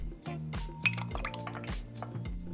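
Dates tipped into a soup pot with water and filet mignon, giving a series of light clinks and rattles against the metal pot with faint watery splashes, close and fairly quiet.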